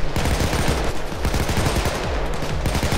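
Gunfire in the video game Payday 2, heard as dense, loud, rapid automatic bursts of shots packed close together, firing continuously without pause.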